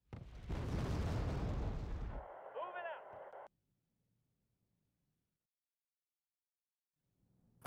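In Wargame: Red Dragon, a heavy artillery barrage roars loud and dense for a couple of seconds, then trails into a tone-laden rumble before cutting to near silence, with a burst at the end.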